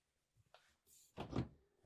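RV refrigerator doors on a 2026 Newmar King Aire being opened and closed: a few soft thunks and a latch click, followed by a louder, fuller door knock and rattle, close and fairly quiet overall.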